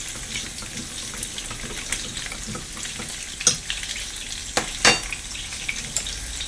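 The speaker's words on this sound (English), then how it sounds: "And in it goes." Chicken and cabbage stir fry sizzles steadily in a pan after a splash of soy sauce or red wine vinegar, with a few sharp spits and utensil clatters rising over the constant hiss.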